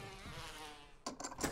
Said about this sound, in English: Ooh, the bees.